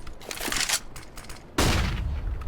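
A flashbang grenade going off in CS:GO: a sudden loud bang that bursts in after some scattered clattering game noises, then lingers as a ringing, noisy tail.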